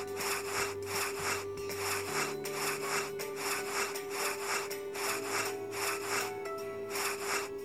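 Rubbing effect in a kids' baby care cartoon game: rhythmic, rasping back-and-forth strokes repeat steadily over a sustained musical tone.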